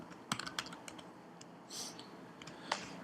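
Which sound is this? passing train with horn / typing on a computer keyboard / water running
typing on a computer keyboard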